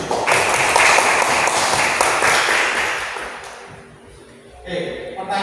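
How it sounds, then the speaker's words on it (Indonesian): Applause from students in a classroom, a dense burst of clapping that fades out after about three seconds, followed by a brief quieter clatter near the end. "Tepuk tangan buat Oke"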